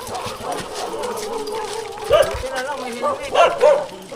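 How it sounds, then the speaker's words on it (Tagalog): A dog barks a few short yips and bow-wows amid steady talk and background noise, close by and intermittent. "Aso."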